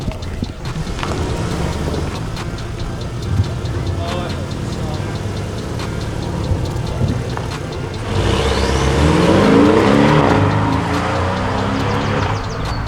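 A Porsche Cayman GTS engine drones and builds as the car pulls away on the road, the revs rising audibly toward the end while people talk over it.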